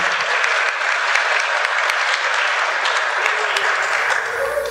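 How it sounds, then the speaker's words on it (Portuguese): A church congregation gives sustained applause, dense continuous clapping from many hands, loud and even throughout, fading slightly at the end. "Uma salva de palmas pro nosso coordenador, Bebê."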